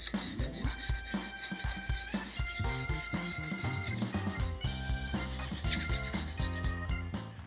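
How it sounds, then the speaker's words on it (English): Leftover gasket material is scraped off an LS stroker engine block with a hand scraper, giving a steady rubbing, rasping scrape that runs continuously under loud background music. "We'll start cleaning the block by scraping off any leftover gasket material."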